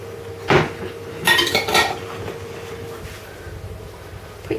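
Metal lids being put on glass pickle jars of cucumbers and gherkins, a few close clinks and clatters early on, then quieter handling.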